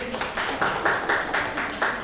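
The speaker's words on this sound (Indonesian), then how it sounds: "Tepuk tangan buat Pak Gus" A small group in a school gathering claps in a fairly regular rhythm of distinct beats, close and moderately loud, with faint voices underneath.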